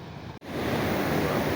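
Sea waves during a coastal fishing trip for octopus: a steady, close roar of surf and wind with a brief cut near the start, then a continuous rushing wash.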